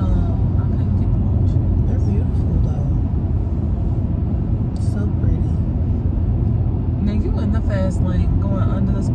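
A car drives along a road on a gloomy day, its steady road and engine rumble filling the cabin continuously, with voices talking briefly over the drone.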